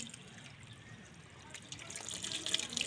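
Tap water runs in a soft, steady trickle and splash at indoor bathing time, faint and close, with light background movement and a voice briefly in the mix.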